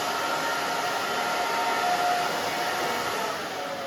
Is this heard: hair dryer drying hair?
yes